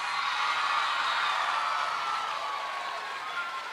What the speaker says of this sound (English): UNICEF, give them an applause.